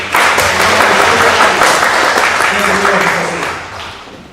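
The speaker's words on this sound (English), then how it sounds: "Let's give her a round of applause again." An audience gives a sustained round of applause for a talented young performer at a talk, dense clapping steady throughout with some speech and voices mixed in, fading toward the end.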